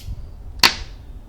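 A single sharp snap of a webcam privacy slider clicking into place rings out once against quiet background hiss, with a short metallic ring trailing off.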